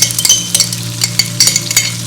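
Onion paste ground with a little red chili goes into a hot frying pan, giving a soft sizzle with repeated stirring scrapes and light clinks of a utensil against the pan, close and steady.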